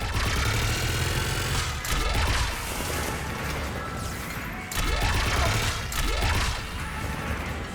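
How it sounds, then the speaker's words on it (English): Gunfire and explosions in the Mass Effect 3 video game, with loud dense bursts of weapons fire, booming impacts and whooshing projectiles over a constant roar of combat. "Just following the gunfire."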